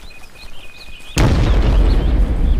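A Semtex charge detonates in the shooter game Call of Juarez: The Cartel, a sudden loud blast that cuts off quieter game sounds and leaves a dense, rumbling roar that carries on to the end.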